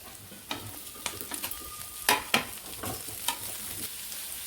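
Capsicum stir-fried with onion, garlic and ginger in a hot pan, a steady sizzle with scattered scraping strokes of a spatula and a few sharper clatters, close and without voices.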